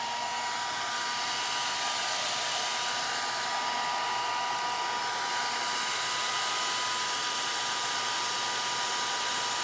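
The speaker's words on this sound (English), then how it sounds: "I'm going to take the hair dryer and turn the hair dryer on." A hair dryer runs continuously nearby in an art studio, a loud steady whooshing roar with a thin whine on top, unbroken from start to finish.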